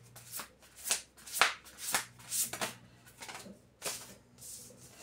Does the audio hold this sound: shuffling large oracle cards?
yes